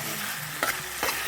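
Cauliflower and potato curry with spices sizzles in a pan, with two short stirring scrapes over a steady frying hiss.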